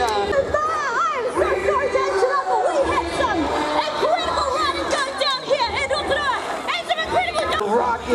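A crowd at the New Zealand whip-off championships at Crankworx Rotorua, a mountain bike event, keeps up loud, continuous chatter with many overlapping shouting voices close by.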